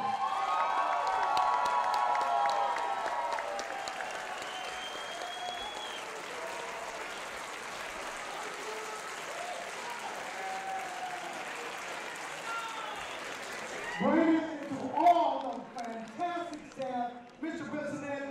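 Wrestling event crowd cheering and applauding loudly for several seconds, the roar sustained then fading, before an announcer's amplified voice takes over near the end.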